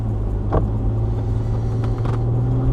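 Low engine rumble with a steady tonal hum from a Subaru Forester with a compound turbo setup driving on a road, heard from inside, with a couple of brief clicks.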